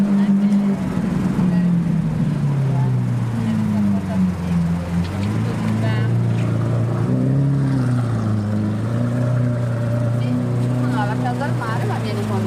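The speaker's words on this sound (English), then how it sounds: "That is Lamborghini sports exhaust" Exhaust of a Lamborghini Aventador fitted with an aftermarket Capristo decat sports system, a loud, sustained low droning rumble with shifting pitch as it revs, with voices talking over it throughout.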